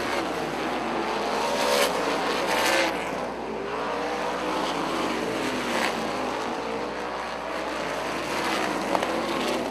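Xtream sprint cars race around the Rockford oval, a dense roar of several engines rising and falling as cars pass, loud and continuous with no talking.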